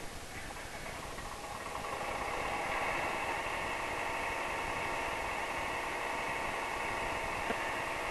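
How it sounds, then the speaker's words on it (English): Tractor engine idling and running in Farming Simulator 2013, a steady, droning mid-range engine hum with a slight rise in level after the start, continuous and fairly faint, with no talking. "you might not be able to hear me very well because of the engine noise"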